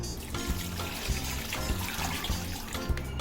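Water poured into a pot holding buffalo trotters, beef and marrow bones for bong paye, a continuous splashing trickle with regular low knocks, moderately close, no talking.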